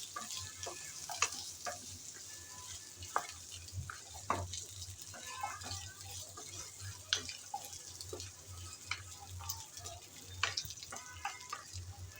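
Papaya pieces fry in oil, a soft continuous sizzle broken by frequent crackles, pops and stirring clicks, moderately close, with a low hum underneath.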